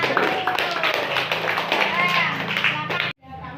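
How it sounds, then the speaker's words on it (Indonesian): A fourth-grade madrasah classroom breaks into lively clapping for group 1, many small hands beating fast under excited children's voices before cutting off abruptly. "Oke, aplaus untuk kelompok 1."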